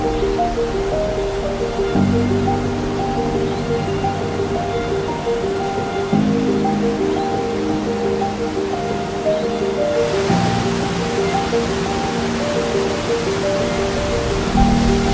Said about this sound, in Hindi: इतनी फोर्स से पानी गिर रहा है, इतनी तेज़ आवाज़ आ रही है कि वो मतलब दूर दूर तक सुनाई दे रही है।